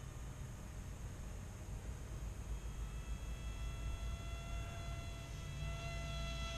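Small SU-35 RC model plane driven by a 375mm brushless motor flying nearby, a steady high-pitched electric whine with tonal harmonics over broad wind-like rushing noise, holding continuous and slightly swelling toward the end.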